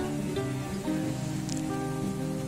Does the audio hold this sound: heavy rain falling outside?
yes